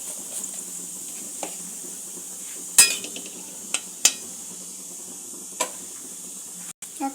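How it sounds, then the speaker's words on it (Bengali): Cumin seeds and dried red chillies hit hot oil for a Bengali-style veg pulao, giving a low steady sizzle with a few sharp clinks of a metal utensil against the pan, close and without speech. "আমি এখানে তেলের মধ্যে অল্প একটু জিরে, শুকনো লঙ্কা প্রথমে দিয়ে দেব।"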